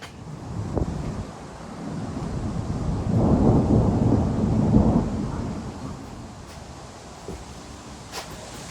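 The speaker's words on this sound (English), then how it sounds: "There's a storm a-coming." Deep thunder rumbles and swells over several seconds, rolling loudly before fading, with wind buffeting in the background.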